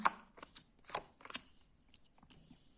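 Tarot cards dealt and laid out on a table for a seven-card spread, a string of crisp, close flicks and slaps in an uneven rhythm, loud at first and then softer, with no talking.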